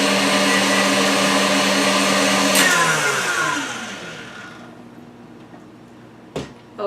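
An electric mixer whips vegan meringue toward stiff peaks with a loud, steady motor whir that winds down and fades after a few seconds, followed by a sharp clunk near the end.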